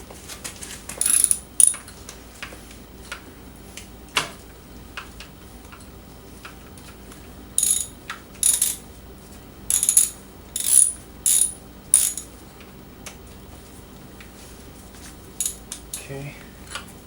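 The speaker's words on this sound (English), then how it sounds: "I like to use just a regular ratchet when I'm loosening something." A hand ratchet loosens spark plugs on a BMW F30 328i, clicking in short, close bursts of rapid pawl ticks separated by pauses and quiet handling.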